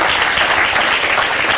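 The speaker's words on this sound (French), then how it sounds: "Super, applaudissements." A studio audience breaks into loud, dense applause, a continuous crackle of many hands clapping with no voices standing out.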